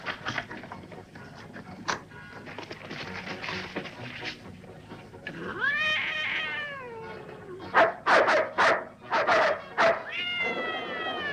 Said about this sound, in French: Sœur Alicia, j'apporte à manger pour le chat.